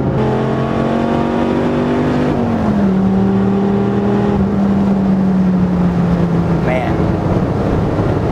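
A Dodge Viper's engine revs hard while driving, a loud droning note climbing through the gears and then holding steady, with a strong rumbling tone close up.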